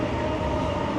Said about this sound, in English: Got a train going through, of course.